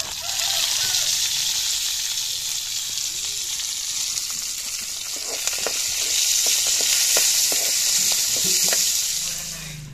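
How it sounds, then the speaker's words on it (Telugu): Tempering sizzling hard in hot oil for a tamarind and onion chutney, a steady loud crackle with spitting pops and a few stirring scrapes throughout. "ఇది తాలింపు పెడతాను."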